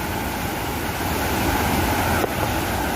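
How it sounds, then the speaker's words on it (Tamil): Hogenakkal waterfall on the river between Tamil Nadu and Karnataka roars as a loud, steady, unbroken rush of falling water, close and continuous with no voices over it. "நகர் அருவி எப்படி ஆர்ப்பரித்து கொட்டுது பாருங்க"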